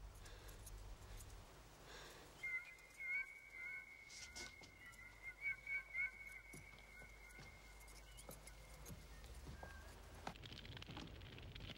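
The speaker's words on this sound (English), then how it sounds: "as I heard the way it sang, something strange happened inside me." The bird of grief in a 1987 fantasy film sings a thin, sustained whistling note with brief fluttering bursts, faint and lonely against a quiet background.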